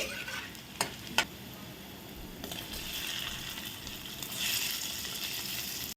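Close sizzling and frying with a couple of sharp clinks of a utensil, then steady stirring and hissing of boiled potato pieces in tempering, no talking.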